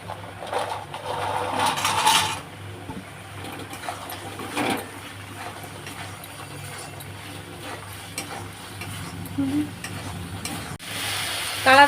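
Soybean chunks stirred and fried in a pan over a high gas flame, a soft continuous sizzle with scraping stir strokes and occasional clinks, no voices.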